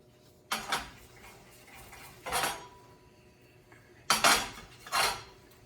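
A pan is shaken and stirred in four separate bursts of metallic scraping and rattling, close and fairly loud, with quiet gaps between them; nobody speaks.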